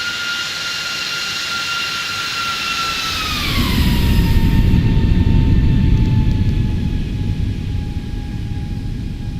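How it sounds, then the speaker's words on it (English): Simulated Airbus A340 jet engines in a flight simulator, a high whine sliding downward in pitch as a deep rumbling roar swells up and then holds steady, loud and close. "The massive A340, look at that. Huge."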